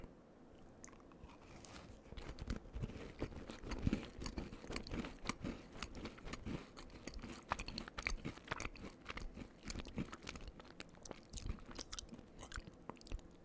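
Close, crisp biting and chewing of a Crumbl cinnamon bun cookie, with a steady run of crunchy, moist mastication clicks and no talking.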